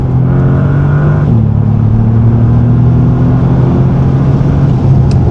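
A 2025 Bentley Continental GT in third gear at about 5,000 RPM pulls hard with a loud, steady engine drone, briefly dipping in pitch before holding a sustained tone, with no talking.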